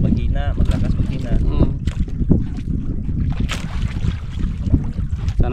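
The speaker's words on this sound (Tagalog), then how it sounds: "Malakas ang hangin, hindi katulad kahapon na anong isang araw na kalma." Strong, gusting northeast monsoon wind buffets the microphone aboard a boat at sea, rumbling and roaring in uneven surges while someone talks over it.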